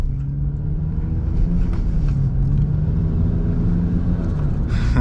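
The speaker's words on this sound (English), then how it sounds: "Little bit of compressor surge" A turbocharged Toyota Corolla engine idles and runs with a steady low rumble, carrying a faint fluttering compressor surge from the turbo, heard close and loud inside the car with no talking.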